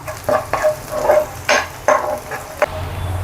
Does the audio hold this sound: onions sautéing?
yes